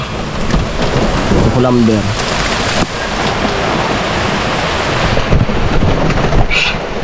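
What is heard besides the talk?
heavy rain and thunder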